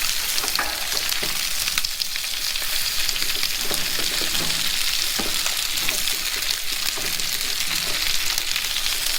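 Onions fry in bacon grease in a frying pan at a fall campsite in Canada, giving a loud, steady, close sizzle with faint crackles and stirring throughout, no talk.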